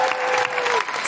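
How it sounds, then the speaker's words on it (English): Audience applause at a live podcast recording, a brief, loud, continuous burst of crowd clapping with a voice audible over it. "Big round of applause for Stacey."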